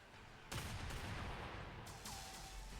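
Gunfire in the space combat game Project Stardust breaks out abruptly as a dense, sustained burst of shots with a quieter second salvo layered in, heard faintly and alone.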